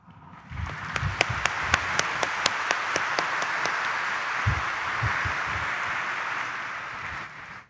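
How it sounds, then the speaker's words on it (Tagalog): Congregation at a Sunday evening Mass in Quiapo Church clapping, crisp distinct claps at first, then a sustained broad wash of applause that holds before cutting off abruptly, with low thumps and rustle underneath. "iparinig nyo sa Kanya ang inyong palakpak"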